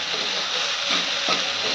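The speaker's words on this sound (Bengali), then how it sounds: "সজনে পাতা দিয়ে তো বেশি ভাজতে নেই, অল্প একটু ভাজা হবে" Moringa leaves frying in a pan give a steady, loud broadband sizzle and hiss that runs without a break, with slight swells partway through and no voices.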